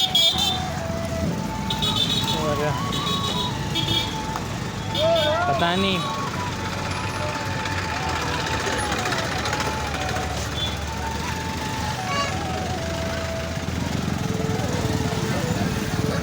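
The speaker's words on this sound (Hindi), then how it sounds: "ये मेले में और ज़्यादा ट्रैफिक हो गया शायद से" Road traffic near a village fair in India, with motor engines droning and several horn toots, heard from a bike amid a busy crowd; a person briefly talks over the traffic.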